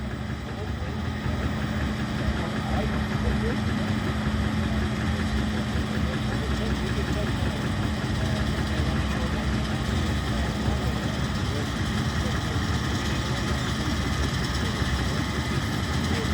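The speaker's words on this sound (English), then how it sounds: "as the combine comes past us this time, we have a cutter bar on the front which is called a 930 Combio" A Claas combine harvester fitted with a 930 Combio cutter bar passes during a harvesting demonstration at an agricultural show, giving a steady loud engine drone with constant mechanical rumble throughout, no gaps.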